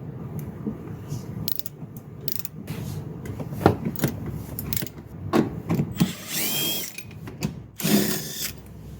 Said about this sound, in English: We can get these two bolts out. 14 millimeter.